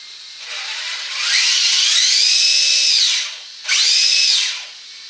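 The servo and high-whining electric motor of a CEN Racing F450 RC truck spin up, hold, and wind down twice, loud and close, the pitch rising and falling with each run.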